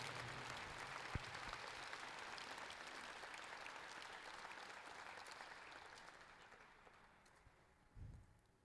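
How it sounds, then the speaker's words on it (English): Broad, even clapping from an audience at the Champions for Children 2022 show, heard from a distance and slowly fading, with a brief thump near the end. "Can you please give a big round of applause for Rachel"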